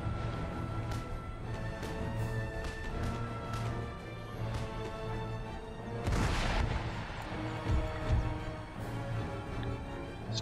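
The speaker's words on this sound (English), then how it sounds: "These Bashi Bazooks shouldn't withstand such devastating artillery fire" Howitzer artillery fire in the video game Empire Total War, with Bashi Bazouk troops under bombardment: a dense battlefield din carrying repeated sharp booms, one heavy blast standing out midway, over a steady low hum.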